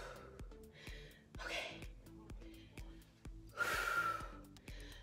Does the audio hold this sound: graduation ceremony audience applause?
no